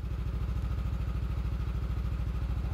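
A Yamaha NMAX V1 scooter engine idles close by in a steady, fast, even putter with a light mechanical clatter, and nobody talks.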